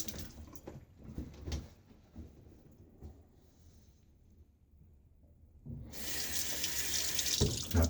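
Cool water runs from a tap into a sink for shaving. A few quiet bathroom knocks come first, then the faucet opens into a loud, steady rushing stream close by.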